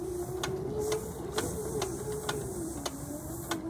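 A self-winding garden reel retracts on its own, producing a steady mechanical whir broken by sharp, regularly spaced clicks, close by with no talking.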